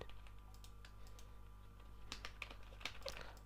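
Typing on a computer keyboard, quiet scattered key taps that cluster into a quicker burst of clicks toward the end, close and faint over a low background hum.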